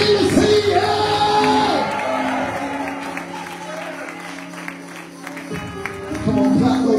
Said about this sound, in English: Come on, clap those hands and give God a shout.